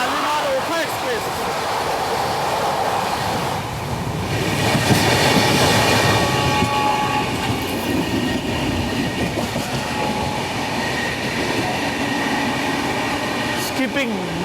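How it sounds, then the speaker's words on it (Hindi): Shalimar Okha Express train passing on an Indian railway line, a loud, close, continuous rumble and rush of rolling carriages with rhythmic wheel clatter and a few high squeals, heard from a moving train. "शालीमार ओखा एक्सप्रेस"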